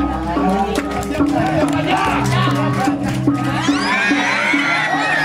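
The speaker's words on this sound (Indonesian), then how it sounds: "tepuk tangan untuk Sanggar Nadia Raja." A lively crowd cheers and shouts over music at a traditional Javanese dance performance, with scattered claps and excited voices building toward the end.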